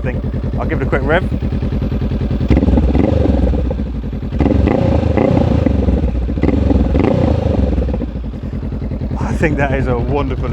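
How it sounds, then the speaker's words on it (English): Close, loud Honda Rebel 500 motorcycle engine idles with a thumping exhaust, then swells through a couple of brief revs before dropping back to idle. "I'll give it a quick rev."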